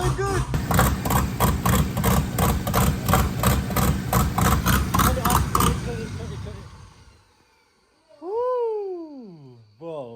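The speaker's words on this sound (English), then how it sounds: "That was loud. Turbo spinning." A turbocharged engine swapped into a Honda Civic starts up with a loud, rapid rhythmic chugging that cuts off. A rising and falling whine of the turbo spinning down follows.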